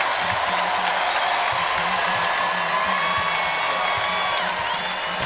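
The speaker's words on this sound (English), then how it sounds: "Crowd on its feet." A basketball arena crowd at an Illinois home win in Champaign, with sustained dense cheering, applause and whoops filling the space throughout.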